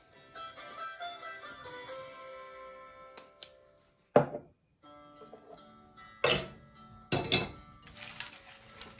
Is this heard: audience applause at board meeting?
no